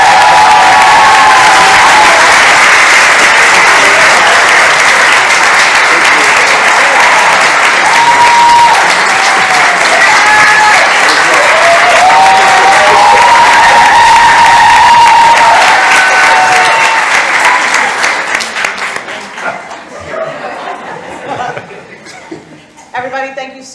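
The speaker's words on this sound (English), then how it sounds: "I get a round of applause when I walk" Sustained applause with cheering and scattered laughter fills a large audience room as a host walks out for an evening conversation event, loud and continuous before tapering off near the end.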